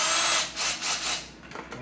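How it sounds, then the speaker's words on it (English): A small drill bit bores a pilot hole during a KitchenAid food processor fuse repair: a loud, close, steady high whine that surges and dips, then breaks into a rattling, uneven grind near the end, with no talking. "we're going to drill a pilot hole here first"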